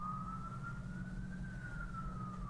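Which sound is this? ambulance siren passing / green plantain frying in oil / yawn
ambulance siren passing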